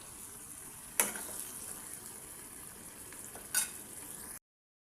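A spoon stirs brinjal and raw mango curry in a pan, giving soft, faint scraping and light sizzling with two brief clinks against the pan.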